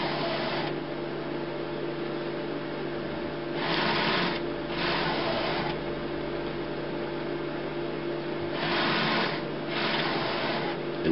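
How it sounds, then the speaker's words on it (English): Priming pump of an HP Designjet Z3200 large-format printer pushing ink through its tube system. A steady mechanical hum runs underneath, with four louder whirring pulses that come in pairs, close and alone. "The noise we can hear, that's the priming pump just pumping the ink through."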